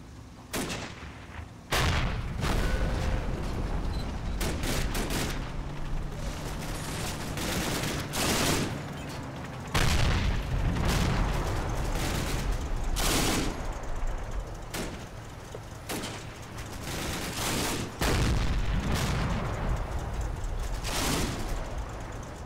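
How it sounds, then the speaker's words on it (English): In the Normandy wargame Combat Mission: Battle for Normandy, a bazooka and rifle fire crack out in sharp, irregular bursts over a constant rumbling battlefield din, loud and dense throughout with no speech. "Oh shit, bazooka!"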